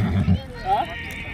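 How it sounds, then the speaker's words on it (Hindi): A Sindhi breed horse at a livestock fair neighs once briefly, a short whinny rising and falling after a moment of hoof and voice noise nearby, with people talking around. "सिंधी नस्ल के घोड़े हैं ये"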